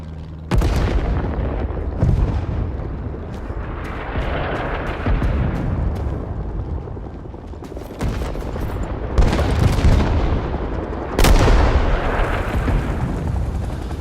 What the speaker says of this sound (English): Artillery on Bravo, please. Yeah, it's coming in, coming in.